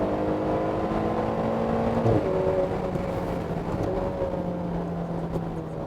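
Ferrari Portofino turbocharged engine with a flat-plane crank, revving steadily in a sustained mid-level drone with shifting tonal whine, alone and without talking.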